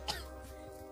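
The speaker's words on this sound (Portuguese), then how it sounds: "Tossiu" A single short cough from a person outdoors on a rural farm property, one brief burst near the start, then only quiet background.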